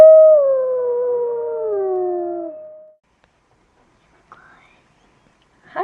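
A puppy gives one long wavering howl, close and clear in a quiet room, sliding downward over about two and a half seconds, followed by silence and a couple of brief faint yips.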